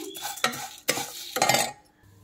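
Grated carrot frying in ghee with bay leaf and dry fruits for carrot kheer: three or four loud spatula stirs and scrapes over a sizzling pan, ending in near quiet, no talking.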